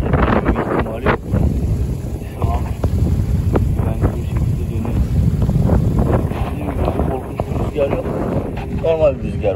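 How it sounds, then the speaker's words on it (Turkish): Strong wind of about 40 km/h roars and buffets the microphone by the sea beside a motorhome in a steady low rumble, with faint indistinct voices underneath. "Rüzgar ortalama 40 kilometre hızla esiyor şu anda."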